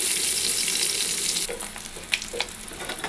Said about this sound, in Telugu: ఇప్పుడు ఇదే ఆయిల్లో తాటాయ చేపను కూడా కొంచెం గోల్డెన్ కలర్ వచ్చే వరకు ఫ్రై చేసుకోండి